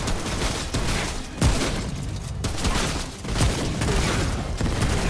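Dense, continuous gunfire and booming blasts from the video game Remnant: From the Ashes fill the whole stretch, loud and unbroken with rapid overlapping shots.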